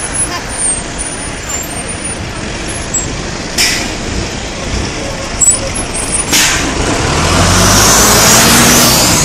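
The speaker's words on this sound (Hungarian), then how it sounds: "Oda már a fehér busz." White bus passing on a road, a broad engine rumble building toward the end and growing louder as it nears, with brief higher hiss bursts like air brakes and people talking over it.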